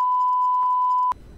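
A single steady electronic beep from the video game Resident Evil 7 holds for about a second, then cuts off abruptly, leaving faint background noise behind it.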